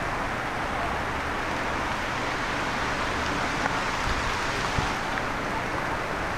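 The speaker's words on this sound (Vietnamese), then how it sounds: "Mưa các bạn ơi, mưa rình." Rain falls steadily outdoors during a fishing trip at Madagui in Vietnam, making an even, unbroken hiss that fills the whole stretch, with a few faint knocks and no talking.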